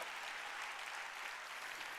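A church congregation claps steadily during a sermon on prayer. The dense, even applause is moderately distant and continues unbroken with no voices over it.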